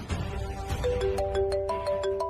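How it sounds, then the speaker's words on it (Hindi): A mobile phone ringtone for an incoming call plays a repeating melodic chime pattern at close range, steady and clear with no talk over it. "बूजी का फोन।"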